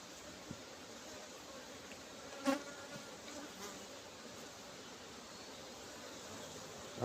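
Honey bees buzz steadily and faintly throughout a beehive inspection of a full brood box, a low continuous hum with one brief louder rustle near the middle.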